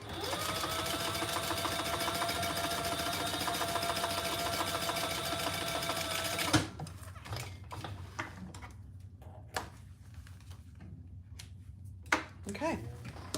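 Sewing machine running steadily while top stitching fabric, a fast even mechanical whir for about six seconds, then it stops, leaving small clicks and handling noises.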